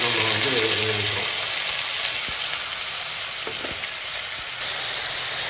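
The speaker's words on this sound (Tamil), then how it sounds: "இதில் வந்து இப்போ இஞ்சி பூண்டு பேஸ்ட் போட்டு நம்ம வந்து வேவிக்கிறோம்." Ginger garlic paste sizzles steadily in a pan, a close, hissing fry with a few faint knocks, under a voice that stops early on.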